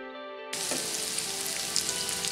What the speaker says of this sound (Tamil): மீடியம் ஃப்ளேமில் வச்சு நம்ம இதை வறுத்துடலாங்க.